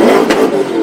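A decatted BMW M3 engine revs loudly and close by, a sharp bark blooming out of a steady rumble, then holding a rough, high drone.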